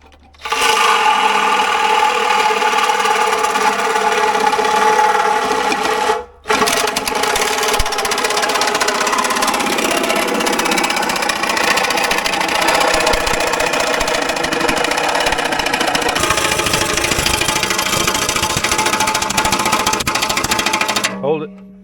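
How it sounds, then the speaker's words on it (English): A Sawzall reciprocating saw cuts into the bulkhead of a vintage cross-country race boat, loud and close. A harsh, buzzing rasp runs almost nonstop, with one brief pause near the middle, and people talk over the cutting. "Come on, Sawzall."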